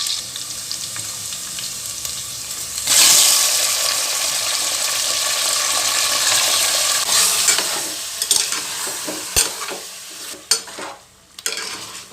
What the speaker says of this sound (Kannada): ಎಣ್ಣೆಯಲ್ಲಿ ಚೆನ್ನಾಗಿ ಫ್ರೈ ಮಾಡಬೇಕು.